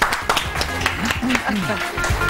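Studio audience applause during an Iftar entertainment broadcast, a brief busy burst of clapping mixed with overlapping voices talking.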